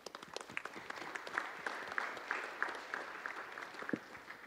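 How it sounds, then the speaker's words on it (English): Audience applause at a conference on financing sustainable development, a faint, distant patter of clapping from a crowd lasting a few seconds, with slight voice murmur underneath. "Round of applause."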